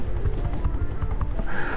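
Keys on a computer keyboard are pressed in a quick, uneven run of close clicks during video editing, sounding alone with no talk.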